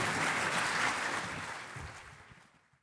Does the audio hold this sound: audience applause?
yes